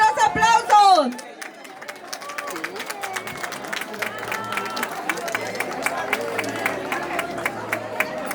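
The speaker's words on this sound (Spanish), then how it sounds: "¡Fuerte los aplausos!" After a brief shout, an outdoor crowd at a firewood race in El Arenal, Yahualica, breaks into sustained clapping mixed with chatter and calls.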